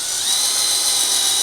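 A cordless drill, either a Milwaukee M12 4-in-1 or a Festool CXS, drives Torx head screws with a steady, close high-pitched whir that holds unbroken for the whole moment.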